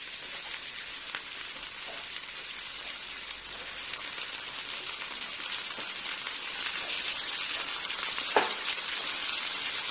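Kolmi and red spinach leaves hit a hot pan with lightly browned onion, giving a steady, dense sizzle that holds evenly throughout, close and continuous with no talking.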